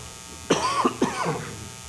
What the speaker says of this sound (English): sorry for all my coughs.